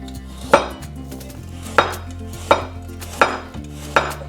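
A knife slices a carrot into rounds on a cutting board, giving five sharp, close knocks spaced about a second apart with quiet pauses between, no voices.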